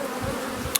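Honeybees in an open hive during queen rearing, a brief, dense close buzzing hum with no talk.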